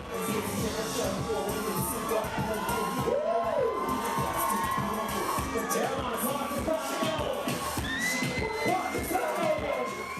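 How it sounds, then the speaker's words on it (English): Loud, dense crowd screaming and cheering at a concert, women's high-pitched screams and shouts rising continuously throughout with a whoop standing out. "the deafening screams from the ladies were an indication"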